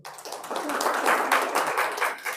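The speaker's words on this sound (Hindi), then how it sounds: "ताली तो बजाओ।" An audience at a Brahma Kumaris spiritual talk claps together in a steady, moderately loud round of applause that swells slightly and continues throughout.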